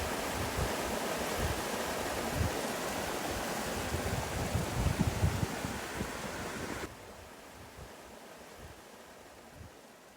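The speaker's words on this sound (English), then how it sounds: "You've got the waterfalls that are right behind me, and it flows into this nice little plunge pool here" A Queensland creek waterfall pours into a small plunge pool with a constant, full rushing roar that suddenly drops to a softer, more distant wash partway through.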